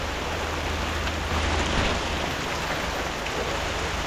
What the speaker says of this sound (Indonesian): Hujan membawa berkah.